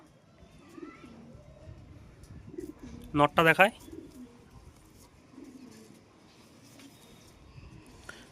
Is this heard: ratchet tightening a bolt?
no